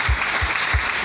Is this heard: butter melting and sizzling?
no